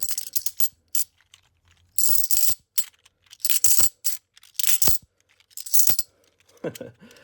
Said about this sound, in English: see if we can get a fat stack of silver sound